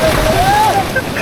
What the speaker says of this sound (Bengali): প্রচণ্ড স্রোত